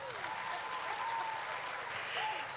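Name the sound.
audience applause for Mastercard Foundation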